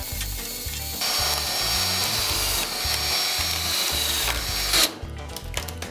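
A belt-fed drywall screwdriver whirs loudly up close while driving a screw into plasterboard, with a steady motor drone and a grinding, ratcheting texture. A brief clatter comes near the end, and there is no talk.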